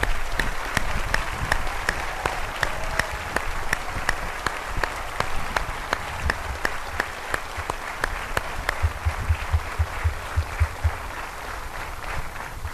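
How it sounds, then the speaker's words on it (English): An audience at an Air Force swearing-in ceremony applauds military veterans, sustained steady clapping from a large crowd filling the space. "I would ask that you stand and receive a round of applause for your service to our nation"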